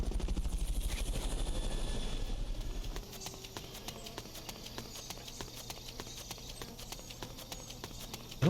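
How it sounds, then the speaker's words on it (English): A helicopter from Metal Gear Solid Peace Walker gives a loud, steady rotor thrum that drops to a quieter, rapid rhythmic chopping after a few seconds and continues to the end. "Fulton recovery subject confirmed onboard helicopter."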